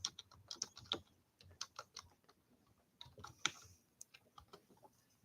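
Irregular bursts of computer keyboard typing, soft and fairly close, with uneven pauses between clusters of keystrokes and no talking.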